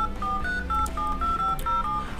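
A code keyed in on a phone's dial pad produces a quick run of about eight clear, close DTMF beeps in an uneven rhythm, loud and alone with no voices.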